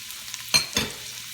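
Carrots and celery hit a hot pot with a sudden sizzle and a quick stir, two short bursts of frying noise, then a fading hiss.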